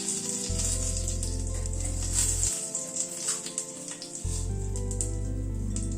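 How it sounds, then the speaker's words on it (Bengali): A dried red chilli sizzles in hot ghee for a tempering, a steady close hiss of frying that runs throughout, with a low electrical hum underneath and no talking. "ঘিতে একটা শুকনো লঙ্কা ফোড়নে দিলাম"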